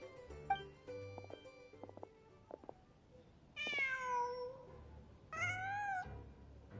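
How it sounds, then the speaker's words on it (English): A cat meows in the video game Genshin Impact, two drawn-out mewing calls rising and falling, heard after a stretch of light game music and soft plucked tones, with no speech. "Just a cat."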